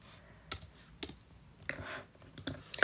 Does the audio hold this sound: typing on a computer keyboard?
yes